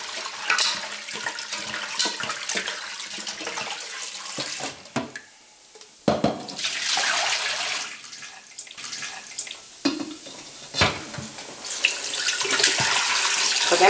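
Meat pieces for Styrian sour soup, small trotters and bits of pork, being rinsed under a running kitchen tap: steady, fairly close water gushing with splashes and brief pauses, no talking.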